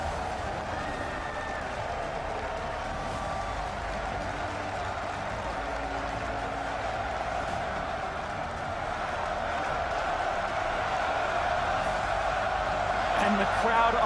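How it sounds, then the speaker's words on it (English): Crowd noise fills a large esports arena at the 2016 League of Legends NA LCS Summer Finals, Immortals versus Counter Logic Gaming game five, a steady roar of cheering that swells louder toward the end under continuous commentary. "the crowd on their feet"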